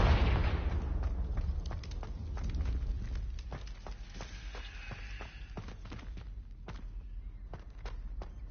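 Repeated Confringo fire-blast spell explosions in the video game Hogwarts Legacy, sharp bursts and crackling blasts over a low rumbling bed, firing in quick irregular succession throughout.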